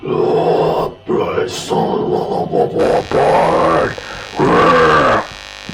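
Speech is run through a guitar overdrive effect pedal with the drive turned up, giving several loud, close, buzzing and grunting distorted phrases separated by brief pauses.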